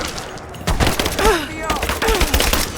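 Gunfire from a firefight in Rise of the Tomb Raider, with repeated loud bursts of shots in a steady rapid rhythm. Shouted voices break in and out over the shooting.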